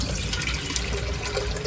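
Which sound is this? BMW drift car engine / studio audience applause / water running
water running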